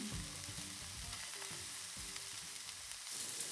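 A burger patty frying on a hot grill for a North Carolina coleslaw burger, giving a steady close sizzle with faint crackle and scraping underneath, alone with no talk.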